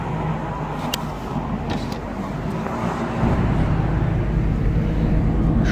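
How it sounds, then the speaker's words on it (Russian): Evening traffic rumbles along a Chicago street as a bus passes, the roar swelling louder and deeper partway through, with a few faint higher clatters over the continuous road noise. "А это что такое за автобус такой интересный?"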